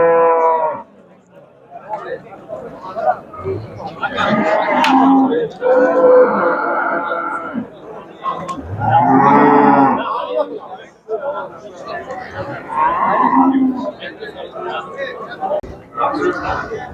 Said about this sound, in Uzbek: Mana sotiladigan ona bala sigirlar.